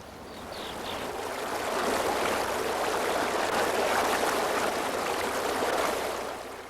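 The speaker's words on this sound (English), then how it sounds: "When it flows, it follows the contour of the stream's bottom and banks." Running water in a stream makes a steady, dense broadband rush that fades in, holds evenly for several seconds, then eases off, with no voices over it.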